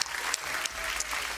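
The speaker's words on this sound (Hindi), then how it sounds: "तालियां बजाने में बड़ी कंजूसी होती है यहाँ पे" Brief, fairly faint applause from a studio audience on a kids' singing television show after a song, an even patter of clapping without pauses.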